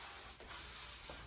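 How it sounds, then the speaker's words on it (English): Cooking spray hisses from an aerosol can into metal baking cans for banana bread: one close, steady spray lasting just over a second, with a short dip in the middle and no talking. "for these I use my cooking spray"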